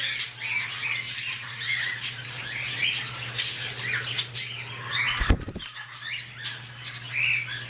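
Two pied male birds squawk in an aviary, with loud, close, repeated harsh calls, wing flutters and a steady low hum beneath, and a brief thump partway through.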